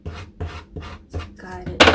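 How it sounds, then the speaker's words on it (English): Soft scraping rubs of a squeegee pressing paper down while assembling a paper flower, about five rhythmic strokes close by, ending in a louder brushing swipe. "Use my squeegee"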